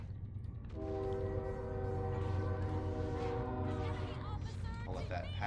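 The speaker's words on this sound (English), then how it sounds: "there's a train by my house" Train passing near a house, its horn blaring in a sustained, layered tone over rumbling rail noise, heard from inside at moderate distance.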